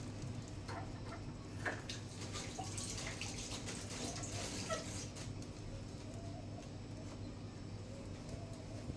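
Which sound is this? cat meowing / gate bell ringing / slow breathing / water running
water running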